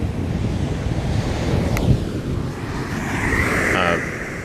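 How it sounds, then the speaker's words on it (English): Ocean waves washing onto a beach at sunrise, a continuous close roaring surf with heavy wind buffeting the microphone and a faint distant aircraft drone. "the waves are gonna get me this morning"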